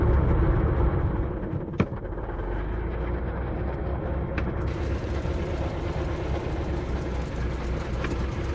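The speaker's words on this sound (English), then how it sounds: "A rattling, smoking carriage." A 115-year-old car with four gears and a wooden steering wheel rattles and drones steadily while driving, a continuous mechanical roar with a sharp clunk near the start and a few faint knocks.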